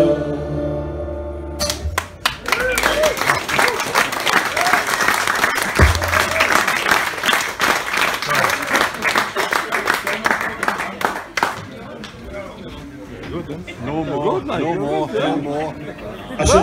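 A café audience at Surf Cafe Tynemouth claps and cheers loudly for the band after a closing song, the dense applause rising from the music's last notes and then thinning into chatter and voices.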